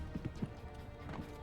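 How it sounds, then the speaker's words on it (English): Enemy footsteps in Warzone, the Call of Duty battle royale, coming from players on another floor of a building: a few soft, muffled thuds in quick succession, then a couple more after a pause, faint and low throughout. "I just hear so many footsteps"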